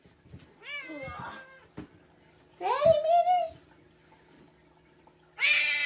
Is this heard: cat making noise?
yes